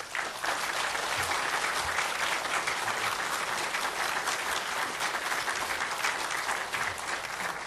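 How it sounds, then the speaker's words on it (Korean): Church congregation applause welcoming a guest pastor at a revival service, dense steady clapping filling the room for several seconds without talk. "우리 박수로 환영하겠습니다"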